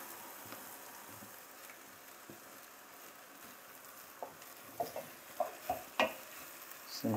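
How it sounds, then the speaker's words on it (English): Rice is poured into a pot and stir-fried with carrots, green beans and seasoning cubes, producing a low steady sizzle with scraping and clinking stir strokes that grow sharper and more frequent toward the end. "You can now pour your rice gradually."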